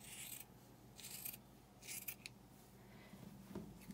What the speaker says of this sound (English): And sometimes I just trim up these seams a little.